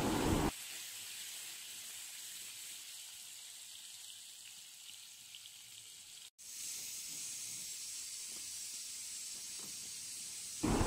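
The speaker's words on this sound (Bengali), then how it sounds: "এবার হালকাভাবে একটু ভেজে নেব।" Pointed gourd pieces frying lightly in oil in a pan, giving a steady, fairly faint hissing sizzle that runs throughout with a brief cut partway.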